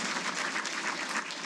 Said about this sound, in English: Round of applause, sir.